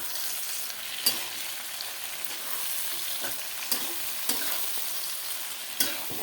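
Cumin, ginger and chili paste sizzle steadily in hot oil while a spatula scrapes and stirs through it, with a few sharper clacks of utensil against the pan.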